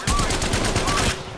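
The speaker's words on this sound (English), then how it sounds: "Firing. Reloading. Almost there. We are close to the ring. Shot fired." Rapid automatic gunfire from Apex Legends Mobile rattles in a fast, evenly spaced burst, loud and close, lasting about a second before cutting off.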